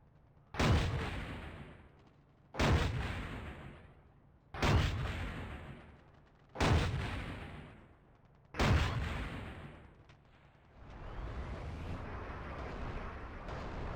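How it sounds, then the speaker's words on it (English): In the video game Battlefield 6, an artillery strike lands during a Conquest match. Five heavy booms fall at steady two-second intervals, each decaying into rumble, followed by a lingering low roar of aftermath. "let's see if our commander can help us out with an artillery strike"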